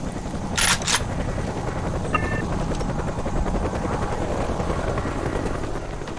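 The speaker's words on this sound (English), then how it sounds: "Enemy chopper. I bet it's looking for us." An enemy helicopter in the jungle shooter game Raven Squad drones steadily throughout with a rapid rotor chop, accompanied by a couple of sharp clicks early on.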